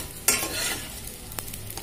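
Edible gum (gond) frying in ghee, a soft crackling sizzle with a sharp stirring scrape at the start and lighter scrapes after, close and short with no voices.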